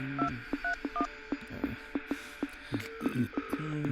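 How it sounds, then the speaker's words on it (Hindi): A telephone being dialed in a Hindi-dubbed film scene, a rapid run of short, distinct keypad tones, roughly a dozen presses in an uneven rhythm, close and clear with faint background hum. "फोन लगा उसे"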